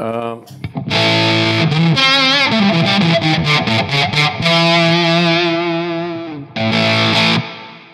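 A heavily distorted electric guitar through a Strymon BigSky reverb pedal plays chords and sustained notes that ring out with a spacious reverb tail, loud and close.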